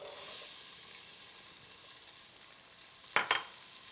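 Onions frying in olive oil in the bottom of a pot for marinara, a low steady sizzle with a couple of quick utensil scrapes near the end; no speech.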